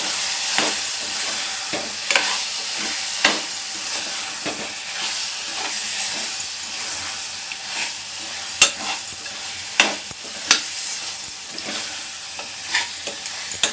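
A pan of mutton curry being stirred after chili powder goes in, with a continuous frying sizzle and repeated scraping stirs at an irregular rhythm, close and fairly loud, no talking.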